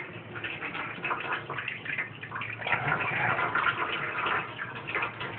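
Whey being poured off curds by hand into a container, a continuous trickling and splashing pour with small drips, steady and close, no talk over it.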